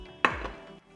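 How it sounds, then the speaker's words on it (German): A single sharp knife chop through an onion on a cutting board, close and crisp, followed by a brief softer knock and quiet. "tun wir uns für das Rührei eine Zwiebel klein schneiden"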